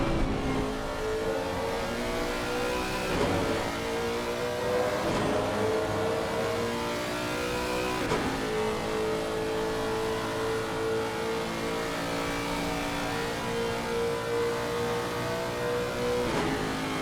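A Lexus race car with a 5.4 engine accelerates hard up through the S's at Watkins Glen during a real-world racing day, its loud, steady engine roar rising through several gear changes and running on alone for the whole stretch.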